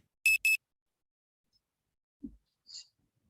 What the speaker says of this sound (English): And the timer starts.